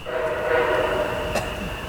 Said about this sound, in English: the last Martinsburg-bound train is approaching Pointed Rocks, MARC P881, with again another MP36 as he boldly rounds the corner.